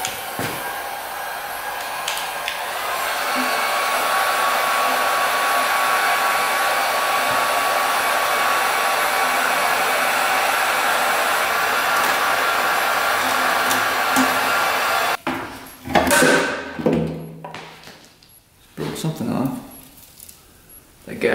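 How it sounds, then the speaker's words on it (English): A heat gun blows with a steady, loud, close whoosh on the brittle gas line of a barn-stored 1967 Yamaha motorcycle, running for about fifteen seconds, then clicks off into clanks and light handling noises with someone talking. "Get the heat gun out here."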